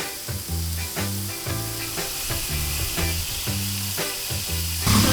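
Chicken kebabs brushed with marinade sizzle on an outdoor Blackstone griddle, a steady loud frying hiss running throughout with a rhythmic low pulsing underneath.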